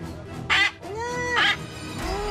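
A parrot held in a glove for restraint at a zoo lets out two loud, harsh squawking bursts close by, with a lower, drawn-out whining call between and after them.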